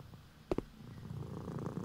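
A cat in the horror video game Teke Teke purrs softly and steadily after two brief taps, quiet and alone without talk.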